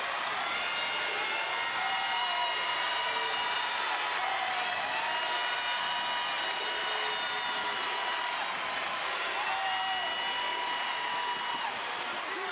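A basketball crowd at Radford roars and cheers loudly and continuously in an arena, a dense wash of voices with no clear breaks.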